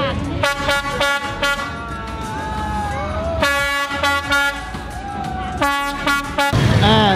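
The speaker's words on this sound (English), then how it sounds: "And this is what happens after the train passes." A train horn blares in repeated long blasts over steady rumbling traffic and tourist crowd noise in Hanoi, Vietnam, loud and close, with brief gaps between the honks.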